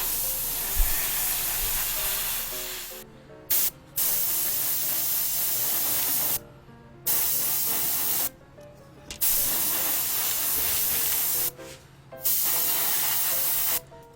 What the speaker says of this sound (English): I will paint it with this airbrush